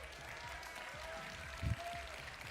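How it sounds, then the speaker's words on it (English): Arena crowd at the Pokémon World Championship 2024 finals applauding, a continuous wash of clapping and cheering at steady volume, with a voice briefly audible under it. "Give yourselves a big round of applause."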